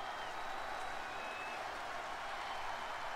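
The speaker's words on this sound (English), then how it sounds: "The crowd's going fucking ape shit for Slenderman" A roaring arena crowd in the WWE 2K20 wrestling video game cheers in a dense, steady wash of noise that holds at an even loudness from start to finish, with no talking over it.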